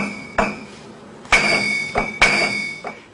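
Gold bars in a storage vault knock together in four separate strikes, each a bright, crystal-like ring that hangs and fades, close and fairly loud with no talking.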